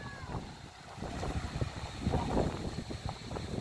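Wind rushes and buffets against the microphone in a continuous, gusty roar, swelling louder midway.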